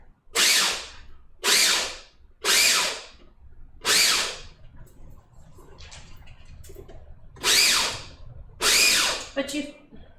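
Walnuts are ground finely in an electric grinder, with six loud, close bursts of whirring grinding about a second each, separated by short pauses.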